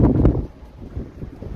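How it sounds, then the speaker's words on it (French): Strong wind buffets the microphone on an open, straight stretch of road on the meseta, roaring in low gusts, heaviest at the start and then easing into softer, uneven rumbles. "M'énerve ce vent"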